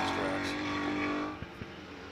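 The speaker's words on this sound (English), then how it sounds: "You got Stavey with a big V8 iron just pounding over the curves." A V8 race car engine at Virginia International Raceway in a GT4 sprint race, droning loudly then fading away, with a couple of sharp thumps near the end.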